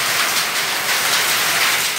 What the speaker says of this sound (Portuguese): Os moradores registraram o momento em que a forte chuva caiu em Nova Olinda do Norte.